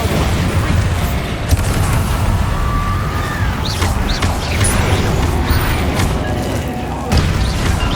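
Blasts from the Bombarda spell in Hogwarts Legacy thump through busy combat sounds, with a couple of sharp booms standing out over a loud, dense game mix.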